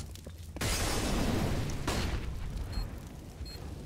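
Grenade blast in a Counter-Strike match on the map Cache: a sudden loud boom erupts after a short quiet lead-in, a second burst follows, then a rumbling tail with scattered faint game sounds.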